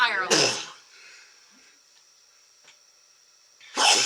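A sharp sneeze bursts out close by, then a quiet pause with faint room noise, and a person starts speaking at the end.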